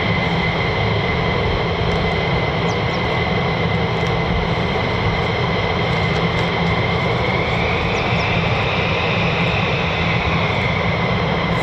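An F-15 fighter jet of the USAF 48th Fighter Wing at RAF Lakenheath roars past, its engine noise loud and unbroken throughout, with no speech heard.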